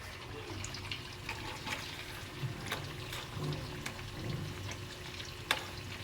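Kamote (sweet potato) fries bubble and crackle steadily in a pan, with occasional scraping stirs and light clinks over a low, continuous frying hiss; sugar is being added as they cook.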